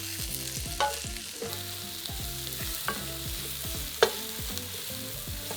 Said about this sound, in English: We're going to cook those mushrooms for about 4 to 5 minutes, stirring often until they're nice and golden.